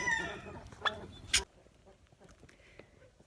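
A white turkey hen gives a few soft clucks and one sharper squawk close by, then quieter scattered clucking follows.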